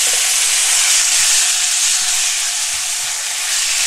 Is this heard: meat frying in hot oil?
yes